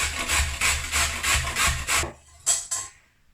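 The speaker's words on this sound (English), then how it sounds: "Next, I've got 2 carrots, which I'm gonna grate." Two carrots are rubbed against a grater in quick, even back-and-forth rasping strokes, about six close scrapes followed by two short final ones, with no talking.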